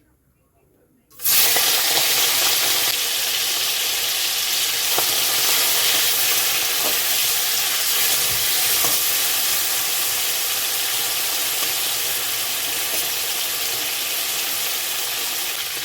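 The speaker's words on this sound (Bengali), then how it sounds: "তেল গরম হয়ে গেছে, এবার দিয়ে দেবো মাছ।" Fish slid into hot oil in a wok, the quiet cut off by a sudden loud, dense frying hiss that holds steady and close for over a dozen seconds.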